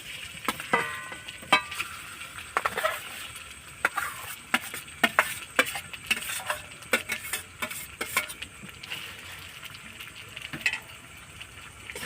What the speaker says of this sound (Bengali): দিয়ে আমি একটু নাড়াচাড়া করবো আলুটাকে 2-1 মিনিটের মতন